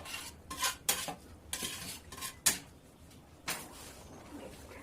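Vegetable biryani gravy being stirred in a large pot for a hundred servings, with several scraping, clattering strokes of a spoon against metal in bursts, close by and moderately loud, with no talk.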